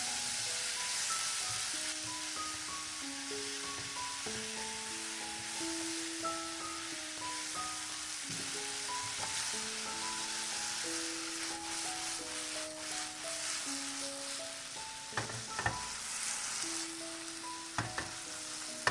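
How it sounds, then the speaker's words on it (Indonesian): Bean sprouts and scrambled egg are stir-fried in a pan, a steady close sizzle running throughout with occasional scraping stirs, while music plays underneath. "Aduk sampai rata dan tumis sampai togenya layu."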